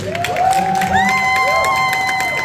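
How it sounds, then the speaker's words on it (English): Crowd at a family empowerment day event in Albany cheering and whooping loudly, with shouts and rising yells layered over clapping for a couple of seconds. "Give a round of applause to everyone who's here"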